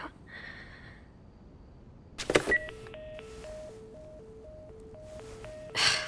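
Telephone keypad tones from a handset in The Last of Us, a sequence of short even beeps alternating between two pitches after a brief clatter, with a second burst of noise at the end.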